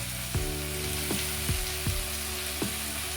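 Spice paste with ground coriander, turmeric and Kashmiri chili frying in oil in a pan for a katla kalia fish curry: a steady sizzle under regular scraping stirs, about five strokes spaced evenly.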